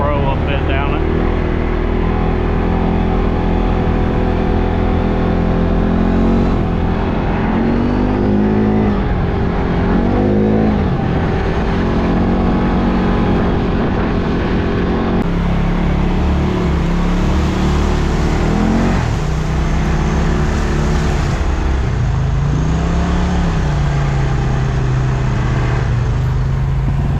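A Razor Pro side-by-side drives down a muddy ATV trail, its engine droning loudly and rising and falling with throttle changes, while people talk over the noise from inside the vehicle.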